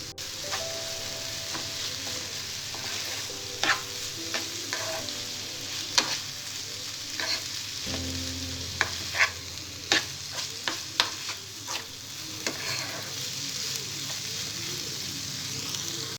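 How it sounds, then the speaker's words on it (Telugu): Ivy gourd tossed with coriander-chili powder cooks under a lid on a low flame, giving a steady soft sizzle broken by scattered clicks and faint stirring taps. "కొత్తిమీర కారం వేసిన తర్వాత మూత పెట్టి 2 నిమిషాలు సిమ్లో మగ్గనివ్వాలి"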